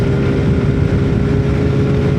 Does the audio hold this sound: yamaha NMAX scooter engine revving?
yes